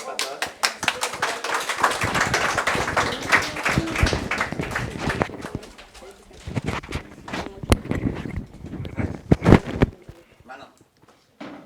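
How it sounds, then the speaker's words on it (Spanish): An audience gives scattered, uneven clapping that thins out and trails into a few isolated claps, with people talking over and between the applause. "Un aplauso para todas."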